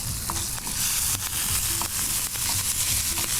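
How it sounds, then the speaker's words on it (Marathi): Onions sizzling and sautéing in butter in a pan for a bhakri chicken roll, a steady close frying crackle with soft stirring scrapes throughout, no voices. "बटरवरती फक्त आपल्याला थोडंसं परतून घ्यायचं आहे की त्याच्यामध्ये आपण दोन उभे चिरलेले कांदे आहेत"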